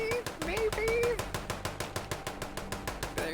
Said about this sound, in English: There's that phantom gunfire.